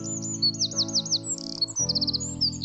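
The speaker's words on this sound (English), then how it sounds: "Zapata wrens are known for their distinctive song and their colorful plumage." A Zapata wren sings a bright, rapid series of high chirping trills, with short repeated phrases over a few seconds, clear and fairly close.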